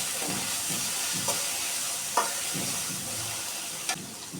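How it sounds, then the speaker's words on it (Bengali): Ground ginger paste, cumin and coriander paste fry with onions in a pan for chicken-fat chana dal, a close, steady sizzle broken by the scrape of a stirring spoon and a few sharp clacks. "সবগুলো মশলা একসাথে পেঁয়াজের সাথে ভেজে নিব।"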